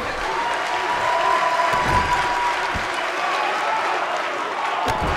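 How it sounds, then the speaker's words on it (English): A wrestling video game crowd, WWE 2K19 with The Rock facing Ricky Steamboat, roars in steady sustained applause and cheering throughout, a dense wash of clapping with a few thuds mixed in. "Listen to the ovation from this crowd."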